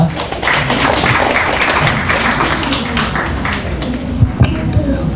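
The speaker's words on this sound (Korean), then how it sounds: "박수로 환영하겠습니다." Steady, dense applause from a sizable audience at a public forum in Yeongcheon, South Korea, welcoming a speaker; even and sustained throughout with a few louder claps near the end.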